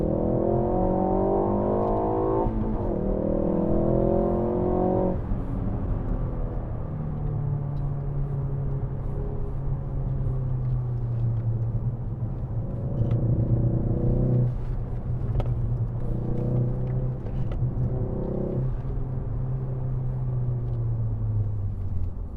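A Ford Focus ST Mk4 engine in track mode revs up and down through downshifts, with rising and falling engine tones in several separate pulls, heard from inside the car.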